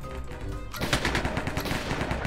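Gunfire in the Minecraft Cops and Crims team deathmatch game, a rapid rattling burst of shots firing continuously, close and steady at moderate loudness.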